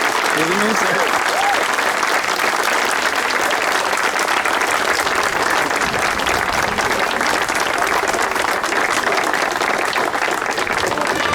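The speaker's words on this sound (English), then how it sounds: "let's have another round of applause for Chick" An outdoor crowd at a veterans memorial street sign dedication gives a sustained round of applause, steady and full throughout, with voices mixed in beneath the clapping.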